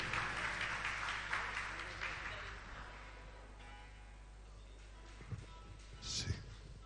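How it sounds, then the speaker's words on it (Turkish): A studio audience on a Turkish TV show applauds in a dense, steady burst that fades over several seconds, with a few thumps and a brief sound near the end. "Bir alkışlar mısınız muhtarımıza?"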